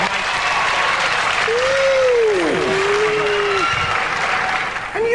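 A studio audience at a Robot Wars celebrity special applauds Shane Lynch and his robot Chrome-a-lot, with loud, sustained clapping throughout as someone speaks briefly over it.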